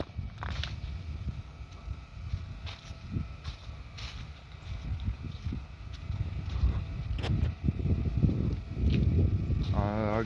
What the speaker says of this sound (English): Sounds like somebody's running a generator down here.